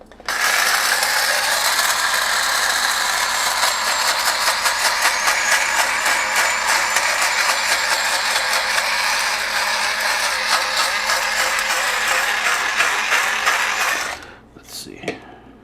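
A ratcheting pepper grinder cranks through steak seasoning and peppercorns in a fast, continuous run of close, loud clicks that lasts about fourteen seconds, then stops abruptly with a couple of faint handling sounds.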